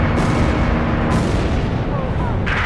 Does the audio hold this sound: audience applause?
no